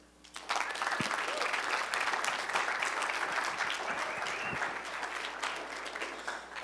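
An audience applauds to welcome speaker Danny Clark at an entrepreneur leadership event, a dense sustained clapping from a crowd that starts abruptly and holds steady for several seconds.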